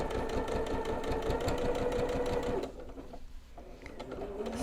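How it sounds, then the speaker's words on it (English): A sewing machine stitching binding onto a minky-backed quilt runs with a rapid, even mechanical chatter, then stops briefly before starting again at a softer level. "sew to the end, and I just hold the miter all the way until the presser foot"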